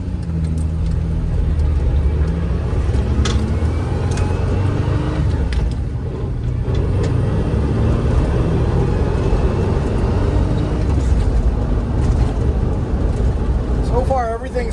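A 1984 Ford Bronco II trail rig with front and rear mechanical lockers, back on the move after sitting a year, its engine a steady, continuous drone with road rumble throughout and a brief squeal near the end.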